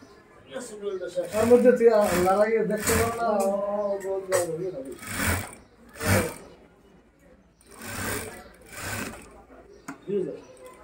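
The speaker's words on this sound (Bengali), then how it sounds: "দেখতে পাচ্ছেন খুব সুন্দর করে কিন্তু এখানে সেলাই করা হচ্ছে" A sewing machine stitches a men's desi shirt in short, separate bursts of whirring. A person talks over it, mostly at the start.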